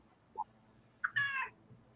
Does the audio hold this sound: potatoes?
no